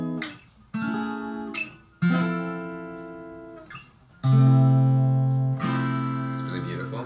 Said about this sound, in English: The major 7th chord sounds like this.